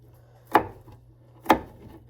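Two crisp knife chops land on a cutting board about a second apart while penne alla vodka is being prepared, each close and distinct over a faint low hum, with no talking.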